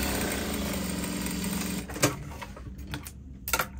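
A sewing machine runs steadily for about two seconds, stitching a half-inch side seam on a garment with a lace scalloped edge, then stops; a few soft handling clicks and bumps follow.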